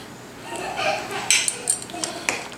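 Slow-cooked corned beef and cabbage with potatoes being served from a crockpot into a bowl, with several light clinks of a utensil against ceramic standing out over faint background noise.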